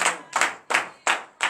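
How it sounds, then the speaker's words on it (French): Congregation at a morning prayer service claps in unison, four or five sharp, evenly spaced collective claps about a third of a second apart, crisp and close. "Donnez une vive acclamation à l'Éternel."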